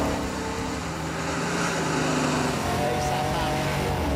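A 1972 Dodge Challenger accelerates hard, its engine a steady loud drone with rising tone throughout, while someone shouts excitedly over it.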